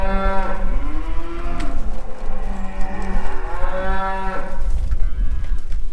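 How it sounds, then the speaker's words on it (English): Cattle bellow in a shed during handling, several long, loud, close moos overlapping one another against a steady background of farmyard noise, with no talking. "Just getting 3 more cows out of the shed to go in the box."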